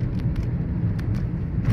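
Low, steady traffic rumble in a jam, with car engines idling and creeping close by and faint passing swells, no voices.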